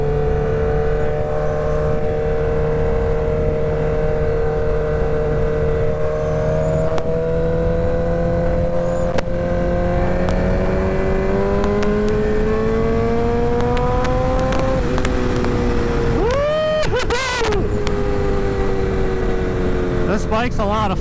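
A 2006 Suzuki GSX-R 1000 sport bike engine holds a steady drone that climbs gradually in pitch as it accelerates, ending with a sharp, quick rev burst and drop; loud and close, with wind rush throughout.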